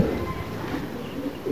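Pigeons coo softly at bath time around midday, a low, brief burbling call close by over a light background hum.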